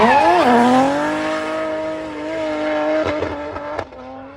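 Race car with over 1,000 horsepower screaming past on the Castle Combe circuit at a spring action day, a loud, high-pitched engine note that shifts down in pitch as it passes, followed by brief gear-change pops.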